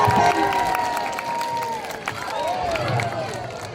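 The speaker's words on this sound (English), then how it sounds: "Now anything he does, give him a great big cheer" An audience at a seal and sea lion show at a safari park cheers and claps in a burst of crowd noise, with a presenter's voice and high whoops over the applause.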